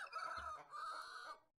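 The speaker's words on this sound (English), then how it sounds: "it was a cock-a-doodle-doo" A rooster crows in the Zoocraft video game, one drawn-out cock-a-doodle-doo call split into two bright phrases with a brief dip between, heard alone and fairly close.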